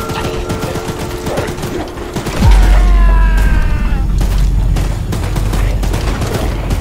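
Gunfire in the video game Choo Choo Charles: loud, rapid bursts of shots with heavy booming low-end impacts and mechanical clatter, starting midway and continuing in close, intense volleys.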